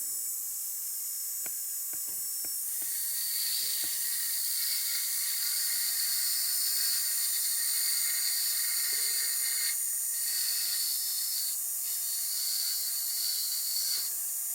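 Rotary tool with a white bit carving fire agate stone, a high, steady hissing whine close by, preceded by a few sharp ticks and clicks at the start, with faint dips as the bit lifts.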